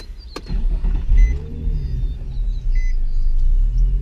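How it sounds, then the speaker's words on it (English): A Nissan 350Z rumbles nearby as its engine turns over and settles into a low, steady idle, with a brief click and faint whirring in the cabin. "So let me actually start the car."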